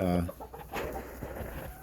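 Red junglefowl, a wild bird that looks like a chicken, give a tonal call and then a series of soft, close clucks on a farmstead, with faint background noise and no talk.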